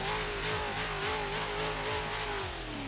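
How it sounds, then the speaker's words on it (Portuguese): A BMW M3 E92 V8 drift car at a drift competition revs hard, producing a loud, continuous engine roar with steady harmonics that hold and shift slightly, heard alone and up close. "Então aqui BMW M3 E92, ó. Essa aqui é V8ona."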